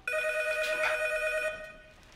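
A telephone rings in a scene from Breaking Bad, a bright electronic bell trill sustained for over a second, then fading out, with no voices over it.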